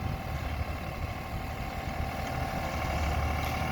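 A New Holland TD4B garden-series tractor engine idles steadily nearby with a low, continuous rumble and a faint high whine, holding an even level throughout with no talk over it.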